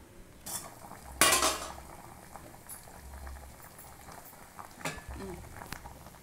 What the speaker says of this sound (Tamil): ஒரு 2 செகண்ட் கொதிக்கட்டும்.